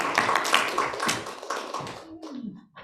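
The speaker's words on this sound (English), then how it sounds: "give us a big round of love and applause for Dr." An audience claps to welcome Rev. Dr. George Harris to the stage: lively crowd clapping with sharp individual hand slaps that thins out and fades near the end.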